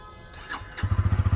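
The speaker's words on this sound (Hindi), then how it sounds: "बाइक अभी ऑन हो चुकी है।" A Bajaj Pulsar N160 motorcycle, a 2024 model, cranks briefly with the starter, then catches and settles into a loud, steady idle with even, rapid exhaust pulses close by.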